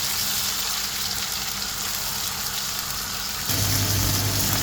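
Cumin seeds sizzle in hot oil in a karahi, a steady loud hiss and crackle that continues without pause and grows slightly heavier near the end.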